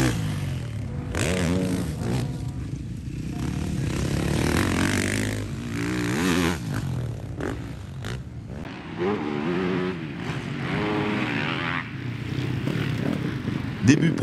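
Racing motorcycles in a free practice session on a partly wet circuit at Castelnau-de-Lévis, their engines droning and rising in pitch at a distance beneath almost continuous commentary.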